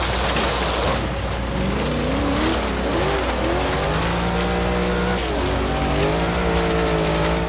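A 1990 Chevy Camaro hill-climb build with its stock motor in Forza Horizon 3, engine revving and shifting under load with rising and falling pitch and occasional tire squeal, loud and continuous.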